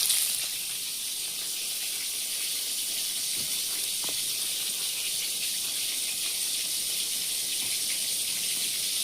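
Pointed gourd frying in hot oil for a simple home lunch, a steady bright hiss that runs evenly through the whole stretch with a couple of faint clicks, no voices.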